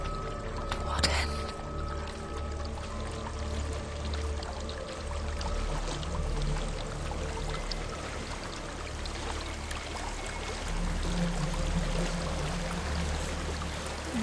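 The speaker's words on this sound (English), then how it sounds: "There's a waterfall." A waterfall in the video game Hellblade: Senua's Sacrifice, a soft continuous pouring and splashing of water that runs throughout under faint ambient tones and occasional sounds.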